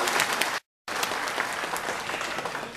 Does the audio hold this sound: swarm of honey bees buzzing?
no